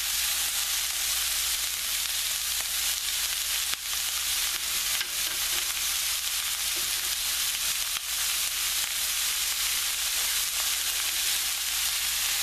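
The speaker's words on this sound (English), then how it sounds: "no sense in wasting film just looking at the onions browning" Onions browning in a pan of oil and butter, a steady broadband sizzle that holds even and loud from start to finish, with a few faint scrapes of stirring and no voices.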